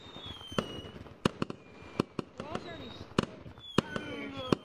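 Fireworks in a video game go off as a string of sharp, separate cracks and pops, with faint whistling streaks between bursts and a quiet voice murmuring underneath.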